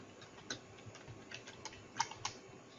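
Keys tapped on a computer keyboard while entering a command prompt instruction, a short run of quiet, close, uneven clicks with a couple of sharper strokes near the end.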